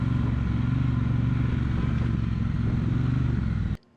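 A motorcycle rides steadily through a swerve and eases to a gentle stop. The engine drones loud and close with a constant rumble, then the sound cuts off sharply near the end.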